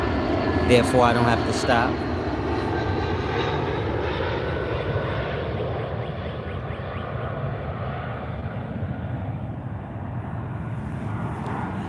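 An airplane passes overhead with a loud, broad engine roar that rises and then slowly fades across the whole stretch, while a person keeps talking over it.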